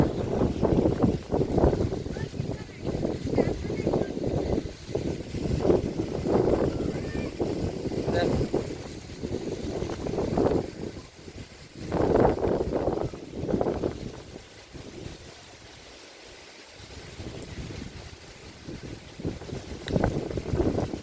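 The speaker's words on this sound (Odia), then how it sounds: "ପ୍ରବଳ ପବନ।" Strong wind roars outdoors, buffeting the microphone in heavy, rumbling gusts that rise and fall continuously, loud and close throughout.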